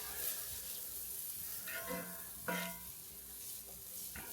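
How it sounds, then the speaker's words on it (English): Garlic sizzling in a couple tablespoons of melted butter in a pan, a faint soft fry with a few brief scraping stirs and clinks, quiet and close. "I put a couple tablespoons of butter in there, dump my garlic in"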